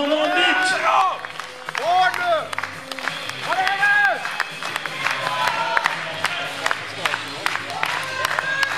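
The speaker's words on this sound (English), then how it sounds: "Give him a big round of applause" Crowd at the 2015 IPF Men's World Bench Press Championships in Sweden claps, cheers and whoops for a 257.5 kg bench press attempt, a steady roar with sharp claps, mixed with an announcer's amplified voice.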